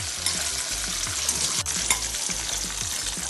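Thinly sliced onions fry in hot oil for a prawn biryani masala, a loud, steady sizzle with repeated scraping stirs of a spoon against the pan.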